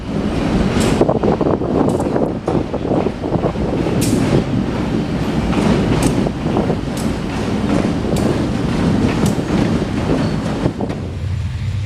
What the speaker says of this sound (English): catch the two locomotives running around the entire train